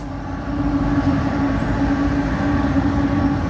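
A train passes close by, a steady heavy rumble with a low droning hum that rises slightly after the start and then holds constant, with no talking.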